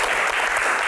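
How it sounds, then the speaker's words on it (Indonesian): Dense, steady applause from an audience at a Q&A session on disaster management in Indonesia, a continuous wash of many hands clapping at once, loud and even for the whole short stretch. "tepuk tangan."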